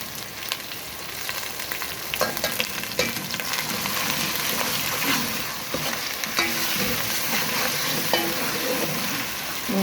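Browned onions and chillies frying in a pan for palak gosht, a loud continuous sizzle with scraping stir strokes throughout.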